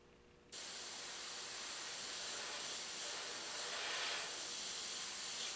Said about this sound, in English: Spraying heavy and wet.